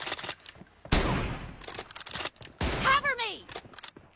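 Gunfire in a mobile shooting video game: sharp bursts of rapid shots with a sweeping whoosh effect, while a player talks excitedly throughout.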